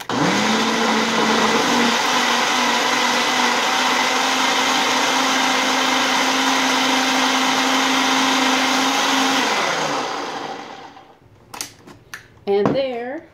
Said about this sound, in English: Blend it up real quick. So it's going to get loud here.